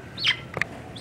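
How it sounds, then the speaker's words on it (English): A black-throated magpie jay calls at the Nashville Zoo in Tennessee: two short, bright chirping notes, close and fairly clear, with no talking. "Got some black-throated magpie jay."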